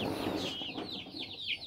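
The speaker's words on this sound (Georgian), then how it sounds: "ეს არის პეპელა ჯიშის მამალი." A five-month-old Pepela breed rooster clucks close by in a short series of quick, chattering calls, fairly faint and with no voices.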